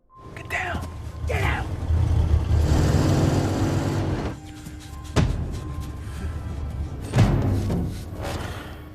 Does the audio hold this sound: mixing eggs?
no